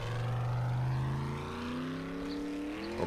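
Car engine droning steadily in the survival video game 7 Days to Die while driving along a main road, the pitch slowly rising as it speeds up, loud and continuous with no talk over it.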